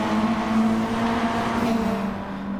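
Race cars driving closely bunched in Gran Turismo Sport produce a steady, loud, continuous engine drone with a sustained tone and no pauses.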